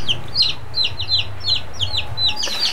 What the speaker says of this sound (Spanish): Aquí están mis pollitos.